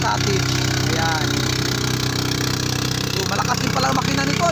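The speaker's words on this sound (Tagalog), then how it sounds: "Malakas din pala ang makina nito, no?" A motor boat engine towing two floating cottages at sea off Calatagan, Batangas drones steadily and loudly throughout, a constant mid-pitched hum with people talking over it.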